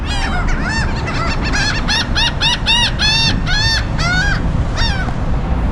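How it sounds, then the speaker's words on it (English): A flock of about 35 seagulls stands together near a storage unit, their loud, close, repeated calls overlapping in quick succession throughout with no talk. "There's just about 35 seagulls just all standing right here."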